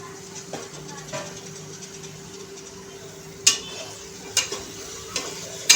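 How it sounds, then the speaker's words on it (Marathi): Peas, cauliflower florets and potato pieces sauté in a hot pan, with a soft continuous sizzle, a low steady hum, and several sharp spoon clanks against the pan toward the end. "भाज्या छान अशा परतून घ्यायच्या आहे।"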